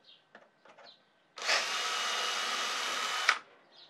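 A drill bores out a hole for a Mikro-Just installation in one steady, loud run of about two seconds, preceded by a few faint clicks and handling taps.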